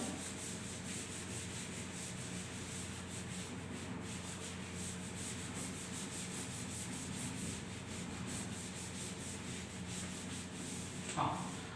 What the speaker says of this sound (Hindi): इसको मैं रब कर दे रहा हूं।